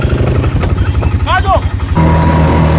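A quad bike engine runs steadily in the desert near Dubai, its low idling rumble rising in pitch partway through, while someone talks over it and music plays.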